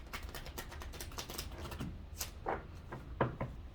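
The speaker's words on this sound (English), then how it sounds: "I'll even shuffle mine face up so you know that I'm actually shuffling them." Playing cards riffle and snap in quick bursts, a crisp flutter followed by a few sharp taps, close and fairly quiet.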